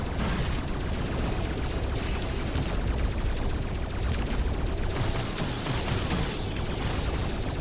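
Rapid gunfire from the 2023 System Shock remake pours out in a dense, unbroken barrage, loud and close, with booming blasts mixed into the continuous shooting.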